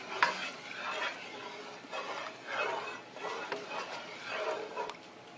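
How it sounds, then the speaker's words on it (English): A pan being deglazed for a creamy garlic sauce with lobster and shrimp gives repeated rhythmic scraping and swishing strokes with a soft sizzle underneath, at moderate volume and close by. "I'll deglaze that pan a little more."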